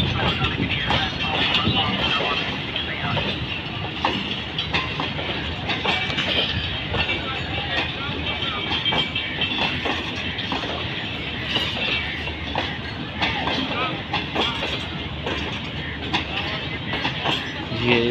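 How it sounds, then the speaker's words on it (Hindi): The 8 Down Tezgam Express, hauled by locomotive GEU-40-9017, rolls into Karachi Cantt railway station in light drizzle, with steady wheel clatter and rumble of passing coaches throughout, under a voice talking. "ये 8 डाउन तेजगाम एक्सप्रेस है, जियो 14 अभी 17 रूट पर है और ये कराची कैंट रेलवे स्टेशन पहुंच चुकी है।"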